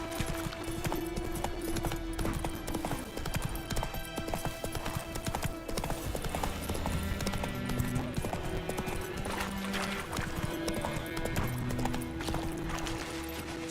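Roach, Geralt's horse in The Witcher 3, trots in a steady clip-clop of hooves over layered game music and ambient sound, with a brief snort or whinny.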